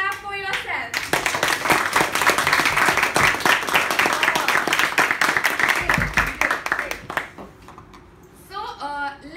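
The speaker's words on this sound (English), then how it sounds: "Now clap for yourself." Meeting audience clapping for themselves, a dense, loud burst of many hands that fills several seconds, then thins out and fades, with a short stretch of speech at the start and near the end.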